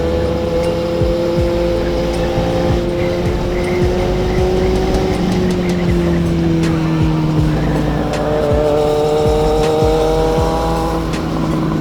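A motorbike engine drones steadily on a ride to Alibag along muddy roads, its pitch rising and falling with throttle changes, loud and continuous with wind noise and no talk.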